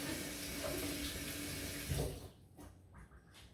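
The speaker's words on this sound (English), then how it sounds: "Wash this pepper nicely." A pepper is rinsed under a running kitchen tap, a steady close splash of water for about two seconds before the flow stops and leaves faint handling noises.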